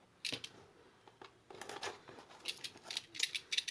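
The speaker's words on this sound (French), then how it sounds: "ensuite, on va les découper au cutter, bien sûr" A utility knife slices through paper for a Christmas windmill craft, making a series of short, crisp scraping strokes that come in quick irregular bursts, close by and fairly quiet.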